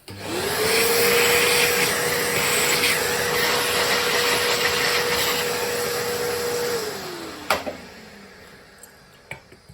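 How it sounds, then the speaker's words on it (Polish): A vacuum runs with a steady whine while sucking up woodworking dust during shelf-making, then winds down and stops, followed by a few light clicks and knocks. "Małe odkurzanie jeszcze."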